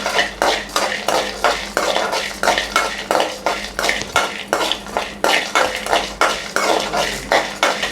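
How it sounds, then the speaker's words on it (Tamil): A metal spoon scrapes rhythmically against a pan while urad dal and peanuts roast in oil for Andhra tomato chutney, a loud, close, steady series of stirring strokes. "இந்த உளுந்து வாசனை வர வரைய நல்லா வறுத்துக்கோங்க."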